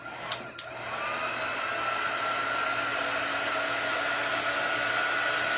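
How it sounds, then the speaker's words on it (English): A heat-set craft tool blows a steady, loud hot-air roar while drying craft paste, starting after a couple of brief clicks and holding an even whine to the end. "This is just our heat set tool. And it can also be done with a blow dryer. And all I'm doing is drying the paste."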